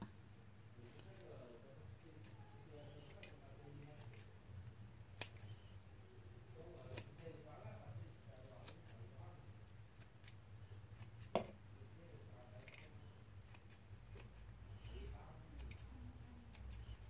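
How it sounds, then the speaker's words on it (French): Scissors snip through soaked, softened rice vermicelli for nems, quiet repeated cuts at an uneven pace, with occasional sharper clicks amid a low kitchen hum and a person talking. "on va prendre les ciseaux et couper"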